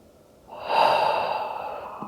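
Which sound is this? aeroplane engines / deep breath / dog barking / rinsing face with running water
deep breath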